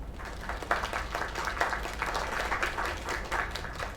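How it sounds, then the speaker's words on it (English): Steady crowd applause in the video game Lake, a dense, even wash of many hands clapping that holds at a constant level with no voices over it. "Another round of applause."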